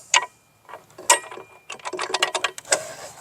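A socket ratchet clicks in short, rapid bursts while loosening bolts on a Hitachi saw being torn down, close and fairly loud, with light metallic clinks between strokes.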